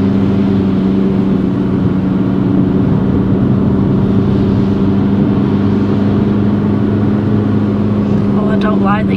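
A car engine drones loud and steady, straining and over-revving in the wrong gear during a driving test, with a constant low hum filling the cabin and a brief voice near the end.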